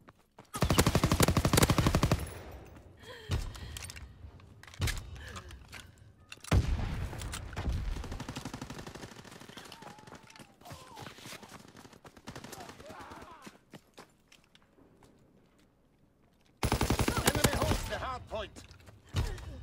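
Call of Duty WW2 multiplayer Hardpoint gunfire, with loud bursts of automatic weapons fire at the start and again near the end, and scattered shots and thuds in between under game voice lines.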